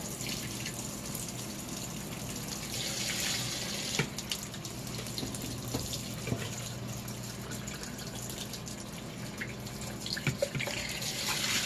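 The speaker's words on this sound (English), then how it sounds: "I'm just trying to save every little bit of this washing soap I can by rinsing these out in here." Running water rinses out used laundry detergent containers in a sink, a steady close splashing flow with occasional drips and sloshes throughout, no talking.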